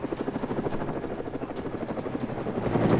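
Steady rhythmic thumping of a Black Hawk helicopter's rotor blades in DayZ, close and continuous, swelling slightly louder toward the end.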